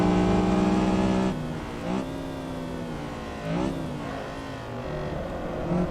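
A Honda Civic EG6 engine in Assetto Corsa on the Magione circuit revs hard and loud at first, then drops to a lower steady drone with several brief throttle blips and rising pulls across the run.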